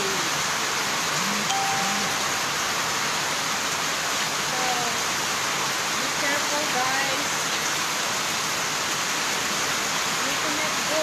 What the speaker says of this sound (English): We cannot go outside. It's heavy rain.